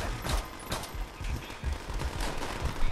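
Gunfire rattles in a Call of Duty: World at War battle, with continuous machine gun bursts and scattered rifle shots layered into a loud, steady fusillade.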